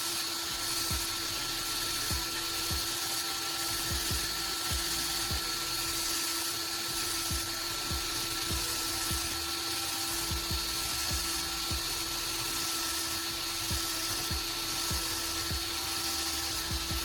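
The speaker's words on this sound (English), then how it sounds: "polishing the small scissor blades on the sandpaper drum" Small pruning-shear scissor blades polished against a spinning sandpaper drum on a power tool, a steady high whine with gritty rasping, continuous and close throughout, with no talk.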